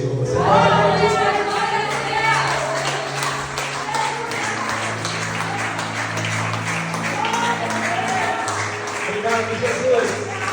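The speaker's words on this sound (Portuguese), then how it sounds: "Você pode aplaudir?" A congregation applauds during a church worship service, a steady wash of clapping beneath sustained musical tones and an amplified voice that carries on throughout.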